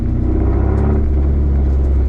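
A Nissan 240SX with a freshly built engine driving on the road, its loud power steering pump whining over a steady, close, continuous engine rumble throughout.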